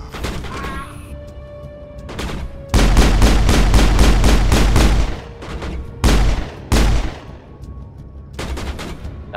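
Rapid bursts of gunfire from a Mass Effect battle, dense volleys of shots hammering close and loud in two heavy stretches with a short pause between, trailing off into scattered distant reports.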